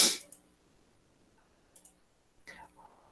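A mouse double-click on a cell in an Excel spreadsheet: a crisp paired click near the start, then quiet with a couple of faint ticks and soft clicks later.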